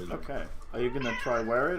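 A house cat meows several times in quick succession, close and fairly loud, while a person talks over it.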